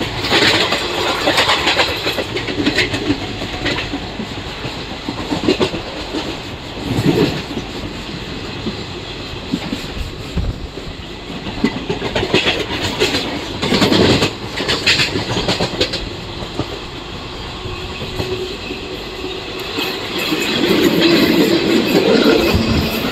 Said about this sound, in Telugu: మన ట్రైన్ వచ్చేసండి గాడ్బాగా రైల్వే స్టేషన్ అయితే స్టిక్ చేస్తుందండి